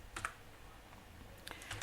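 Quiet typing of code on a computer keyboard: a few sparse, light key clicks in short clusters over a soft background hiss.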